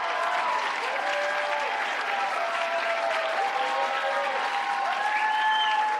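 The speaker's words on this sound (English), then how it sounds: "A lengthy standing ovation for Hillary Clinton." Standing ovation for Hillary Clinton from a large crowd, a continuous wash of applause with cheers and shouts woven through, steady and loud from start to finish.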